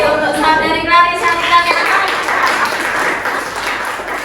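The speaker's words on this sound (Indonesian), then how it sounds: "Beri tepuk tangan sekali lagi" Audience at a National Santri Day school event clapping in a short burst of applause, fairly close and loud, fading into softer crowd noise.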